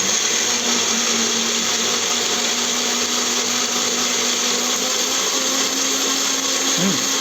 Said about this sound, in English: this is the mixer I bought from India